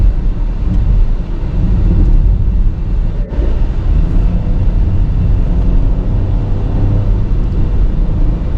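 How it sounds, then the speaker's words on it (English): A 2025 Buick Envista Preferred, a light front-wheel-drive crossover, accelerates away from a traffic light, heard as a loud, steady engine and road rumble from inside the cabin with no talking. "right off that light, it gets up to speed just fine"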